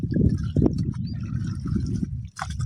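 A child splashes and bathes in rainwater outdoors on a farm during light rain, giving loud, continuous close splashing and sloshing water with a brief lull near the end and no speech.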